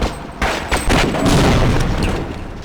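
Grenade blasts hit assassins in Half-Life on hard difficulty, a rapid series of loud booming bursts with gunfire-like cracks that overlap and roll on for a couple of seconds.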